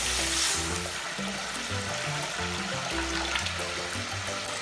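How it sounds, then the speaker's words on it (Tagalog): Coconut milk poured into a hot wok for ginataang malunggay, a steady close sizzle and bubbling trickle heard alone. "isusunod natin yung ating second gata dito sa kawali"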